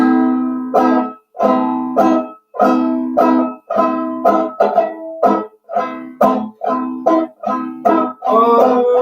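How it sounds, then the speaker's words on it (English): A guitar is struck in short chords, each cut off by left-hand muting into a choppy, rhythmic strum pattern of about sixteen strokes, close and loud with no talking. "or you can strike the strings and then mute with the left hand by coming off ever so slightly,"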